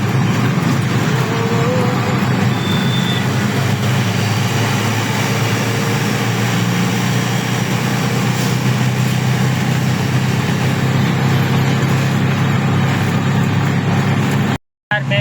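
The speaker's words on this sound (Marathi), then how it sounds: "म्हापे शेळपाटा रोड ट्रॅफिक किती लागले बघा." Idling engines in slow road traffic on the Mahape–Shilphata road, heard from inside an auto rickshaw as a continuous loud rumbling drone with a brief dropout near the end.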